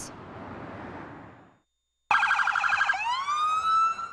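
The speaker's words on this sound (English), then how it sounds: "Lights and sirens filled the street" Outdoor rumble fades out, then police sirens burst in loudly in a police funeral procession, wailing and yelping with rising and falling tones nearby.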